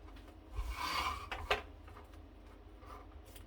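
Scissors slide and cut through felt held in an embroidery hoop for an appliqué, giving a soft rasping rub followed by a single sharp snip, close and quiet.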